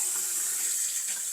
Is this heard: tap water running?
yes